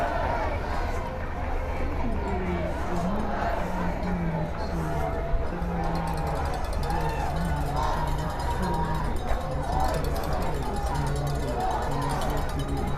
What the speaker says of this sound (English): You can also hear people singing and chanting there in the crowd.